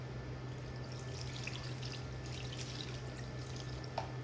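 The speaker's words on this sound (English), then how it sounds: "Put more broth." Pho broth pours into a bowl as a steady, soft liquid trickle running throughout, with a small clink near the end.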